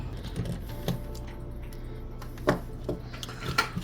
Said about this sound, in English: There's some screws all around the GPU. So I'm gonna start removing these screws.